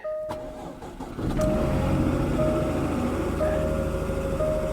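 A 2012 Corvette engine cranks briefly and fires up, then settles into a steady close idle with a faint high whine over the rumble.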